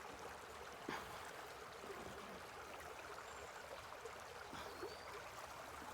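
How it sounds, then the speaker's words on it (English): Water rushing through a Royal Manufacturing sluice box over the mat, a continuous broadband gush with a faint trickle and splash, steady and fairly quiet, with no voices. "Capture that faster running water right there."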